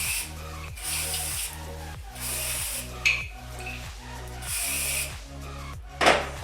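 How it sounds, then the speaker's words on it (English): Brake cleaner sprayed onto bike caliper pads in several short hissing bursts, close and sharp, over a steady background music bed with no talk. "Now I'm going to apply brake fluid or the brake cleaner,"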